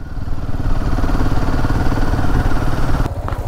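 Two Royal Enfield Himalayan motorcycles, a new Himalayan 450 and an older Himalayan, ride side by side, their engines thrumming loud and close in a steady low drone with a rattly pulse, with a sharp click near the end.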